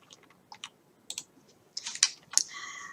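Typing a new folder name on a computer keyboard: a few scattered single keystrokes, then a quick cluster of close, crisp taps near the end.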